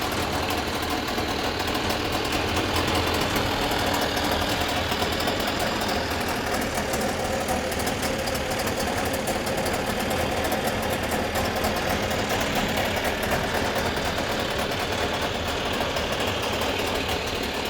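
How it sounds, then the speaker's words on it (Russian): A Tohatsu 8A outboard motor fitted with a homemade water pump idles steadily, a close, loud and continuous mechanical drone with a fast ticking rattle and no pauses. "И мотор работает."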